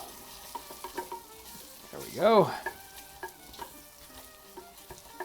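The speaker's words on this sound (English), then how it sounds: "A little bit of sizzle, obviously, might happen while we're adding these things." Onions and lemon peel sizzle steadily in a pan of browned 18th-century brown gravy, with a louder burst of frying as they hit the fat and a brief spoken remark.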